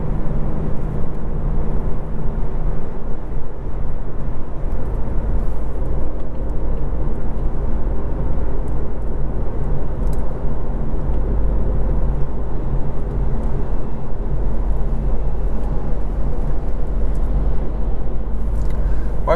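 Steady low engine rumble and road noise from a car climbing a mountain road at around 2,000 feet elevation, continuous and fairly loud throughout with no talking.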